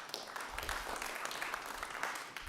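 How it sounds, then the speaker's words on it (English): Audience clapping at a Rotary community grant award event, a soft, steady spread of many hands heard at a distance with no break. "it's hard not to clap"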